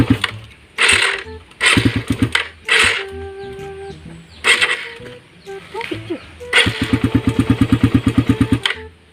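A motorcycle engine revs and sputters in bursts, then settles into a rapid, steady putter, with people talking nearby over it.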